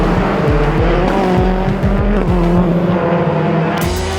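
A race car accelerates on a track, its engine rising through repeated upshifts with loud, close revving and brief tire noise, no talking.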